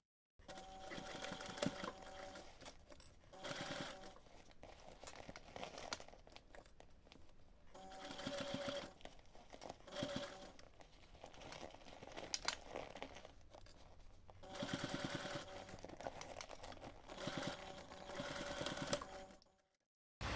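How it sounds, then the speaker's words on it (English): A sewing machine stitches close to the folded edge of a fabric bag's lining opening, running in several steady whirring bursts with brief pauses and some fabric crinkling between them. "take this to the machine and stitch close to that folded edge"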